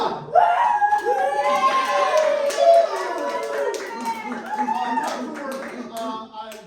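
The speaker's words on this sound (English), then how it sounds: "Please applaud!" Audience clapping at an improvised Dungeons and Dragons comedy show, sustained and fairly close, with voices and kids' chatter and shouts mixed into the applause throughout.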